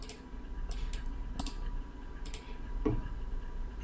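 Sharp, isolated clicks of a computer mouse on a desk, several scattered single presses spaced irregularly, close and fairly quiet over a low steady room hum.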